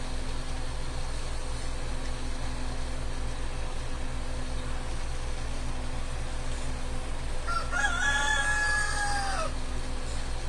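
A rooster crows just outside a backyard shed door where boro glass is being worked, one clear crow rising over a steady hum of shop equipment and background noise.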